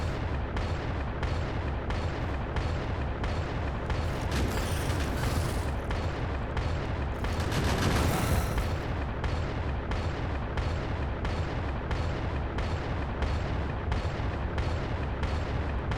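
Automated turrets in Factorio keep up a steady, rapid rifle-round barrage against attacking enemies, dense and continuous for the whole stretch with a brief louder swell midway, and no voices present.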